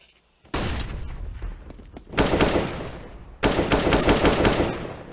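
Bursts of rapid automatic gunfire fired through a wall in CS:GO on Mirage, three loud sustained volleys separated by brief pauses, close and dominant with no talk.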